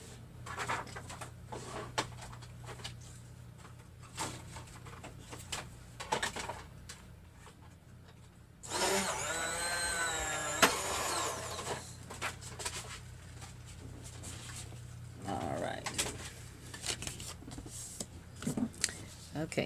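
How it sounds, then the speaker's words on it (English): An electric Big Shot die-cutting and embossing machine runs for a couple of seconds with a steady whirring motor drone amid quiet handling sounds and someone speaking. "I have an electric Big Shot, so you're going to hear a little bit of noise."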